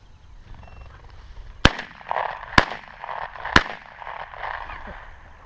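Three sharp shotgun blasts ring out outdoors during a bird hunt, evenly spaced about a second apart against a quiet background.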